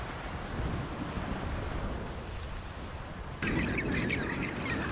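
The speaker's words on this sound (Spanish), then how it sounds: "el viento corriendo a través de las imponentes paredes de hielo" Wind rushes past towering ice walls in a steady, loud broadband roar with gusty fluctuations, growing slightly harsher toward the end, with no voices present.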